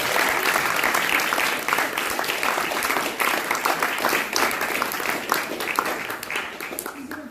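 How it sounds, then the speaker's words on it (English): Vigorous applause breaks out during a TEDx talk on mental illness, many hands clapping loudly and densely with distinct sharp individual claps, sustained for several seconds and gradually thinning toward the end. "He's going to break a record for most applause breaks in the TEDx talk."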